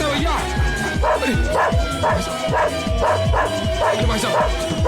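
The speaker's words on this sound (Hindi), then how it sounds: "अरे भैया, कुत्ते को रोको भैया" A dog barks loudly and repeatedly in quick, rhythmic bursts, close by, while people talk over it in an agitated, overlapping way.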